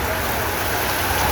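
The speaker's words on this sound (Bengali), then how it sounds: "পদ্মার পাড়ে তুমুল বৃষ্টি হচ্ছে।" Heavy rain on the bank of the Padma River at Mawa Ghat, a dense steady hiss of downpour filling the whole brief stretch, close and loud with no break.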